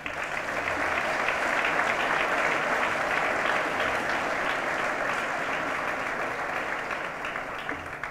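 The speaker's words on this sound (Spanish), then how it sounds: "me gustaría pedir un aplauso para los tres" Sustained applause from a sizable crowd at a business awards gala in Novelda, steady and loud throughout, with dense clapping that tapers slightly near the end.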